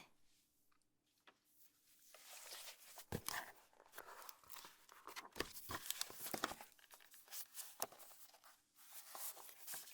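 Paper is crumpled and torn up close, crisp crackling and ripping in irregular bursts, quiet at first and busier in the middle, with no talking.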